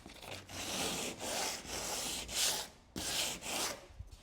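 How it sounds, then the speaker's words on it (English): A sand block is rubbed lightly by hand over an epoxy-coated kayak hull in steady back-and-forth strokes, with about seven rasping passes, each broken by short pauses, heard up close with no voices. "if I just take a sand block and just do a little bit"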